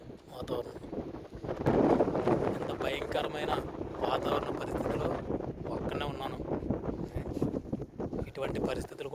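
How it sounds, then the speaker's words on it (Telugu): Strong gusting desert wind in Kuwait roars and buffets the microphone steadily throughout, with a faint voice occasionally audible beneath the noise. "ఈ గాలి అనేది ఎన్ని రోజులు ఉంటుందో చూడాలి"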